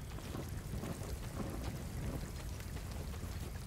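Steady rain in the video game Star Wars Jedi: Fallen Order, a dense, even hiss of falling water with a low rumble underneath, continuous and fairly quiet throughout.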